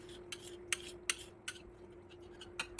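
A knife blade taps and scrapes across porotta dough on a counter, a series of short, crisp strokes spaced about half a second apart over a steady low hum.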